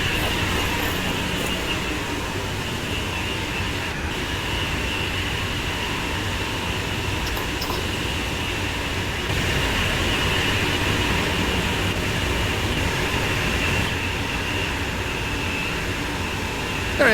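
A passenger train full of people runs steadily in Train Sim World 6, giving a continuous rumbling rail drone with an even hum and hiss throughout, loud and without talk.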